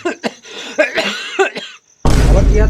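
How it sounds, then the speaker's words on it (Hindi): Several sharp coughs in a quick, uneven series, loud and close, in a rural Awadhi comedy sketch, ending abruptly in a burst of broadband noise. "हमारे बहुत अवतिया है खांसी।"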